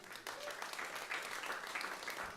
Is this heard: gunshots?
no